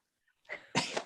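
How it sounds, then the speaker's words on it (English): A single close sneeze: a short sharp inhale followed by a loud burst, in an otherwise quiet room. "It's okay to sneeze on camera."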